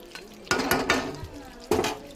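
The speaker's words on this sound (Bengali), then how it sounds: "এইবার এর সাথেই কষে দেবো পেঁপেটা। এবার এর সাথে এরকম করে কষবো" Papaya pieces stir-fried with chicken in a pot, heard as a few sharp scraping stirs and clatters of a spoon against metal over a soft sizzle.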